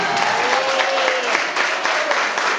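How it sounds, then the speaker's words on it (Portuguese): A church congregation at an evangelistic crusade breaks into brisk, enthusiastic applause, many hands clapping close and loud in a steady, unbroken wash. "Dá para dar uma salva de palmas."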